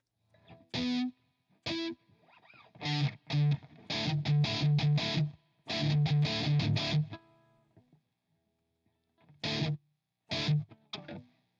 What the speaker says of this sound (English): So let's try spring reverb.